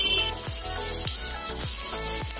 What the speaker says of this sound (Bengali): তো আমার বাটারটা পুরোপুরি মেল্ট হয়ে গেছে, এবার এর মধ্যে অল্প করে রসুন কুচি দিয়ে দিচ্ছি